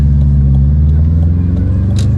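Car engine fitted with an aftermarket 3-inch catback exhaust, suspected catalytic converter fault, droning steadily and loudly at close range with a deep, even low rumble throughout.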